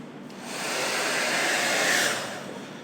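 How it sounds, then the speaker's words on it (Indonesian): A Panasonic NE65 hair dryer blows in a steady, loud rushing whoosh that swells as it nears and holds close for a few seconds with no talk. "Kali ini gue pakai hair dryer Panasonic"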